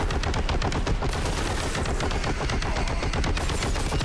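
Heavy bolter in a video game firing a continuous, dense stream of rapid heavy shots, loud and close, sustained for the whole stretch with no pauses.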